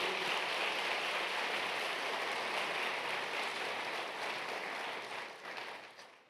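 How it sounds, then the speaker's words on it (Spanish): Church congregation applause for Jesus during a sermon, a dense, even wash of many hands clapping, heard steadily from a distance before tapering off near the end. "Dele un fuerte aplauso a Jesús."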